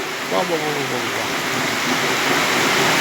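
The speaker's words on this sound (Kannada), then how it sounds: "ಭಯಂಕರ ಮಳೆ ಬರ್ತಾ ಇದೆ" Heavy rain roars in a dense, constant wash, with a voice speaking briefly underneath near the start.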